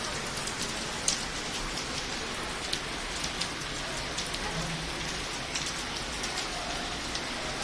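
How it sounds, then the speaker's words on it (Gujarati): Heavy rain pours outdoors as a steady, dense hiss with faint scattered drop ticks. It keeps a constant, moderate level and no one speaks. "ફૂલ વરસાદ ચાલુ છે"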